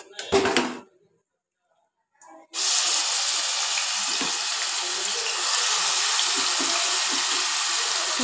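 Onions dropped into hot oil for a Telugu-style fish curry: after a brief clatter and a pause, a loud, steady broadband sizzle starts abruptly and holds close and constant to the end.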